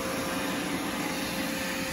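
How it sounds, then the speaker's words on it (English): An iRobot Roomba 900 series robot vacuum runs with a steady, moderate motor whir and brush hum that stays constant throughout. "Here's the Roomba going on its way."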